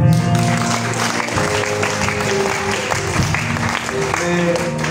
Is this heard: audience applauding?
yes